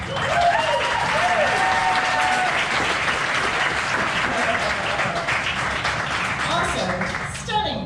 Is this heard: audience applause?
yes